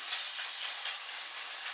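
Chicken pieces fry in a hot pan, making a steady, bright sizzle with crackling spatter. It is close and continuous, with no talking.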